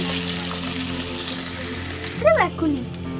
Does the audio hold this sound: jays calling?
no